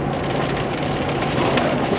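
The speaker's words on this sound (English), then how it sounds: "this is a lot of rain, which is great because we've been in this like crazy drought" Heavy rain falls steadily outdoors during an April downpour after a long drought, a dense, even hiss of drops close by with no talking.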